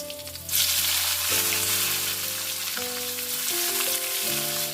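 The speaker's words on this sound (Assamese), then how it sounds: "পিঁয়াজখিনি মই এনেকৈ ভাজি লৈছোঁ।" Onions, dried red chillies and bay leaves fry in oil with a loud, steady hiss that starts after a brief moment, crackling continuously up close while a musical tune plays underneath.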